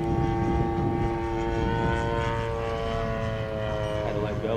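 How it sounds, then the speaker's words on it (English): A giant scale RC Corsair model airplane makes a low pass with flaps down and gear up, its propeller engine droning loud and steady with a slight pitch shift as it passes close by. "I'm gonna try to do a down dirty pass with the flaps gear up."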